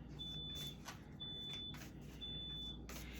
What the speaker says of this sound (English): There goes my beeper.